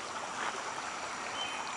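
Steady rushing water from a flowing creek, a constant broadband wash with no pauses, fairly close and even in level throughout.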